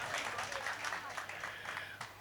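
Fairly quiet applause rises from the crowd at an All India Mushaira poetry gathering, patchy and uneven, with voices mixed in among the clapping.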